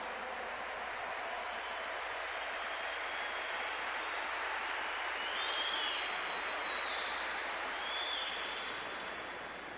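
A large audience at a Catholic gathering claps steadily together, a dense, even wash of applause that holds at full strength for about ten seconds with no voices on top.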